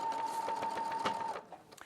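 A sewing machine runs in a short, fast burst of stitching through fabric, its rapid mechanical chatter steady and close, then it stops with a few faint clicks at the end.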